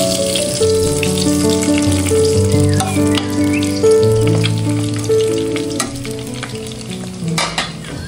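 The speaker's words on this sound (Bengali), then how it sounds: "আমার ভাজা দেবো মাছ" Fish sizzles and crackles steadily in hot oil in a home kitchen pan, a loud, continuous frying hiss with occasional stirring scrapes and clinks, no voices.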